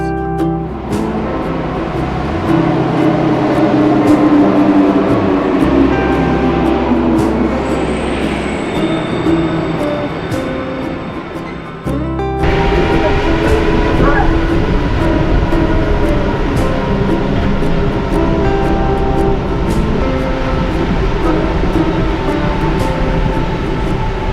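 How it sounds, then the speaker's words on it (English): An automatic Paris Metro Line 1 train rides along with a loud, continuous rumble of wheels and motor, periodic rail clicks and a brief high squeal, with a sudden change in tone midway. "One girl recommended me to go to take the metro 1 because it's automatic"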